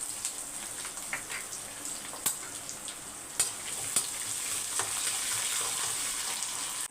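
Finely chopped garlic frying in a pan, a continuous crackling sizzle with occasional sharp pops and light stirring taps, growing slightly fuller toward the end.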